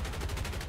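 Enemy aircraft gunfire in War Thunder, an I-185 or SU-6 firing from long range: a brief, rapid burst of rattling shots, dense and continuous for under a second.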